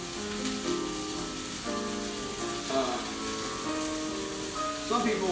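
Steak sizzles and fries in a pan, a steady crackling hiss heard under a voice as he talks through the clip.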